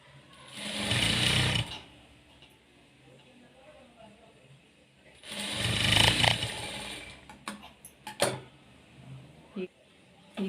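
A sewing machine stitches blouse lining pieces together in two loud, steady bursts of a couple of seconds each, separated by quiet handling, with a few sharp clicks and knocks of fabric and machine parts near the end.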